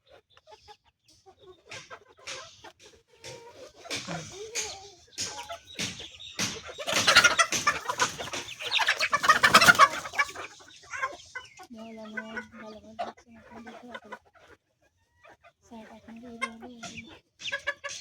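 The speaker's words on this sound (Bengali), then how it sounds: "ধরে ফেলি মুরগি, এখন মুরগি ধরি।" Chickens on a home poultry farm cluck and squawk near and far, a busy, uneven chorus that swells into loud flapping commotion midway, with people talking at times over the birds.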